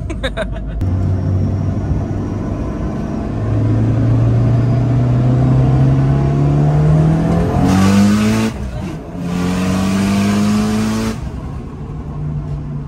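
A Mitsubishi Lancer GSR engine revving hard and rising in pitch, loud and close, dropping off briefly before surging again, with a faint tire squeal.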